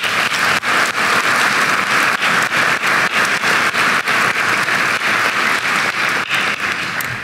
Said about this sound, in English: Please join me in another round of applause for class of 1994